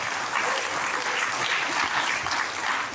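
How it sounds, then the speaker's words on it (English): Audience applause during a comedy set, a thick, continuous wash of clapping that holds level for three seconds with no speech on top. "Thank you for the applause"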